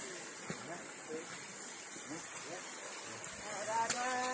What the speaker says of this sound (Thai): ในที่สุดเราก็มาถึงน้ำตกหิน3ชั้นแล้วนะจ๊ะ